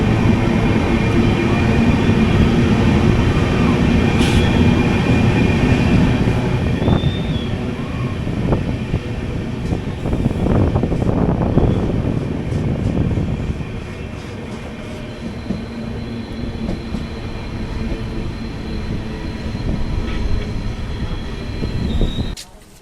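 The Farakka Express passes through a short tunnel between hills, its loud rumbling wheels and wind roar filling the inside of a general coach, with clacks and faint squeals before the noise eases toward the end.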